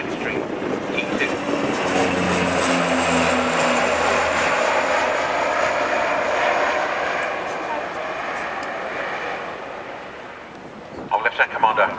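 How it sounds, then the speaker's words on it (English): A Jetstream T2 aircraft flies past at the RNAS Culdrose airshow with a sustained engine roar that swells and slowly fades, and wind buffets the microphone. A commentator's voice carries over the public address throughout. "That aircraft type being the Jetstream T2."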